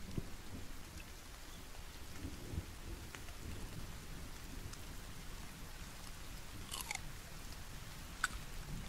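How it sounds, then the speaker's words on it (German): Thunderstorm in the video game The Forest: steady heavy rain hiss throughout with low rumbling thunder underneath, plus a few faint sharp clicks, no talking. "jetzt wird es auch noch zu gewittern"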